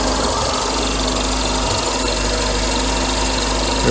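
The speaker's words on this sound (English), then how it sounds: "Can you hear the air pump?" A secondary air pump whirs steadily on a Mercedes W124 300E engine, a constant loud buzzing drone blended with the engine's idle, close and unbroken for the whole stretch.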